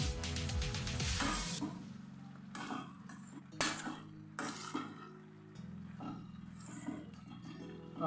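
Bottle gourd curry being stirred in a pan, with repeated metal spoon scrapes and clinks against the pan over a steady background, fairly close and moderately loud.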